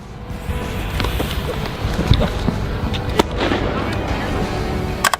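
Fireworks popping and crackling in a noisy outdoor scene, with scattered sharp bursts over a steady rumble and a couple of louder cracks near the end.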